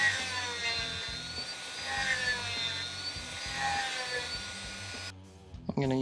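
A rotary tool with a cone-shaped sanding stone grinds an action figure with a thin, high whine that wavers as it bites, close and continuous, then stops near the end.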